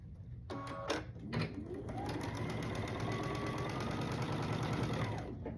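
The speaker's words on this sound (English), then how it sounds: "I'm going to take the white piece and I'm going to sew it on top of these 2 that were going up and down." A sewing machine joins quilt block pieces, starting with a few short taps and bursts before settling into a smooth, continuous run of rapid stitching, close and fairly quiet, with no one talking.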